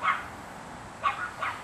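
Young dog about ten months old giving a few short, sharp barks: one near the start and two more around a second later, moderately close, with no talk.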